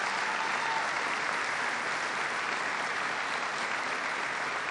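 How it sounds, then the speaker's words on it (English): Sustained audience applause at U.S. Central Command, a steady dense roar of clapping hands filling the room throughout, loud and continuous with no pauses. "Give Kathy a big round of applause"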